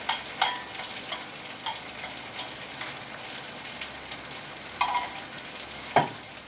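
Beef sizzles in hot oil with a steady hiss, broken by scattered crackles and a few louder pops and scrapes.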